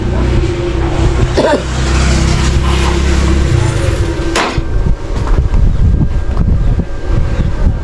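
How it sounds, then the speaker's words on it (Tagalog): Loud wind roars across the microphone amid a rumbling engine, with a sharp clatter midway and a few brief spoken words. "Sarap ng hangin ah."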